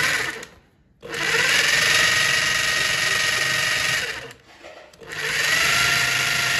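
An electric drill with a 10 mm bit bores a hole in a wall for a fixture installation, whining loudly and steadily in two long bursts separated by a brief pause.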